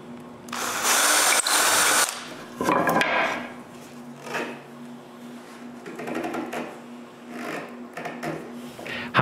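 A power drill bores holes for bolts in a wooden rip fence guide for a saw, two loud whirring bursts followed by quieter intermittent drilling and handling noises nearby.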